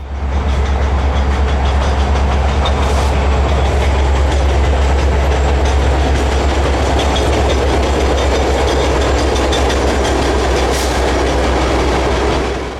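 A Montana Rail Link freight train races past at about 65 miles an hour, a loud, sustained roar of rumbling wheels and rhythmic clickety-clack with occasional squeals, close and unbroken for the whole stretch.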